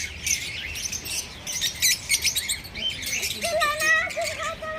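Parrots in a garden chirp and squawk in quick, bright bursts, fairly close and repeated throughout, with a longer tonal call toward the end and faint background noise.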